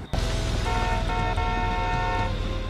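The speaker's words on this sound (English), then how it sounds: "Let's honk." A car horn honks in the video game Friday the 13th: The Game, steady held blasts over a running engine hum, close and loud with no talk.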